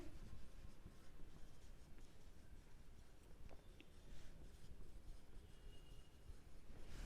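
Pen or marker writing on a surface while class intervals are filled into a table, a steady scratchy scribbling that runs continuously through the stretch against a constant background hiss.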